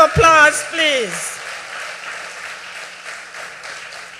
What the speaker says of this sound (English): Give him another round of applause, please.